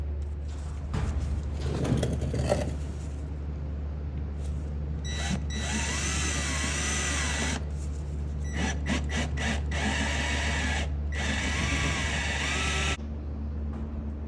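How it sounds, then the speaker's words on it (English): A hole saw bores holes into the underside of a Yamaha RMAX side-by-side, with several bursts of high whining drill spin separated by short pauses over a constant low background hum. "I'm gonna go in from the underside and hit it with a hole saw a little bit bigger than the head of my new bolts"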